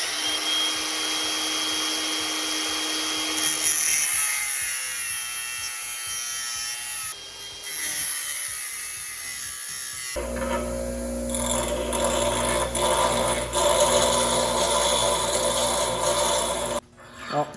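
A power grinder works down a piece of 3/16 steel stock during a repair on an MK3 Golf shifter, giving a loud, continuous whine whose pitch and texture shift partway through as pressure on the metal changes.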